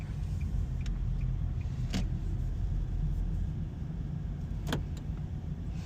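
Steady low engine rumble of a 2025 Nissan Sentra idling and moving in road traffic, with a couple of brief clicks and rattles inside the cabin.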